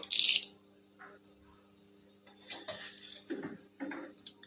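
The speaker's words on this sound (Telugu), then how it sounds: "ఒక రెండు స్పూన్లు పచ్చిశనగపప్పు తీసుకుందామండి" Spoonfuls of raw chana dal dropped into a metal pan for drumstick leaf chutney, a few short rattling clinks and scattered patters in separate bursts, close and fairly quiet.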